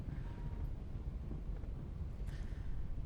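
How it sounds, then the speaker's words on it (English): Strong gusts buffet the microphone outdoors on a hot, windy day on a grass airfield, a steady low rumble with fluctuating bursts running the whole time and no other clear sound. "it is very windy today"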